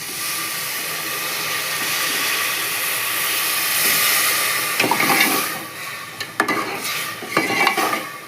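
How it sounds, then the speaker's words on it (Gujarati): A steady loud hiss of steam rises as water is poured into a hot pan of cooking vegetables, followed by several sharp clatters and scrapes of stirring. "હવે પાણી નાખી દેવું."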